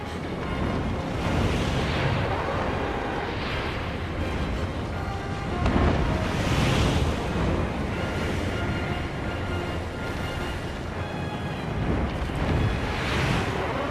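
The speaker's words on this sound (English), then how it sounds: "I can't jump forward because the wind's blowing me back." Wind gusting in Shadow of the Colossus during a boss fight, a loud continuous roaring rush that swells and fades in broad waves over the whole stretch, with no voices.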